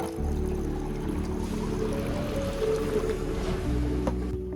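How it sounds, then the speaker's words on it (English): Water poured into a clean container for an orchid, a steady close pouring and filling sound under a low background hum, continuing for several seconds. "use a clean container and add water"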